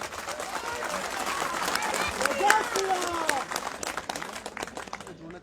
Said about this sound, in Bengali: একবার জোরদার করতালি